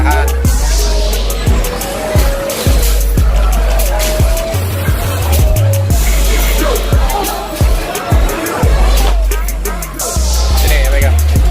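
Motorbike engines from a motorbike racing video game whine and rev continuously, with repeated sharp shifts and bursts over a busy, loud mix, while people talk over it.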